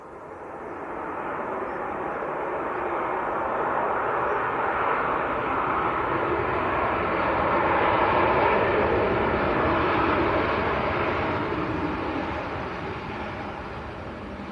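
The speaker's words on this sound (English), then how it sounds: "Next aircraft just about to touch down" A Ryanair Boeing 737-800 lands at Manchester Airport, its steady engine roar swelling and holding loud for several seconds before easing off as it passes.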